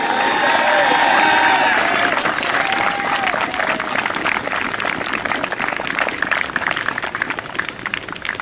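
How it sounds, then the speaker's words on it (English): Crowd at a high school boys soccer playoff game applauding a retiring referee at his final match, loud sustained clapping with some cheering and a fading announcer voice early on. "So please give a round of applause"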